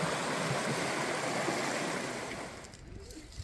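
A river rushes steadily along a valley in backcountry terrain, a broad close wash of flowing water that fades and thins toward the end.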